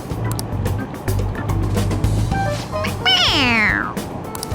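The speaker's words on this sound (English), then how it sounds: "It meows when you press on its head." A toy cat in Persona 5 Royal lets out a single loud, falling meow when its head is pressed, rising clearly over a steady low rumble of background noise near the end.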